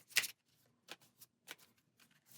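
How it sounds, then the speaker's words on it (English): Cards of a Sentinels of the Multiverse deck being shuffled by hand, a sharp riffle burst followed by several softer, separate card slaps and flicks, close and quiet. "we're going to shuffle their deck and then draw 4 cards"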